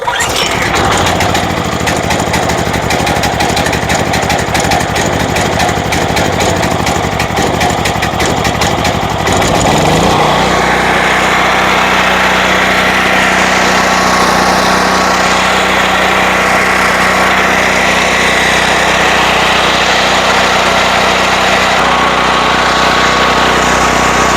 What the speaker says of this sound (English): Just going to pull start it real quick.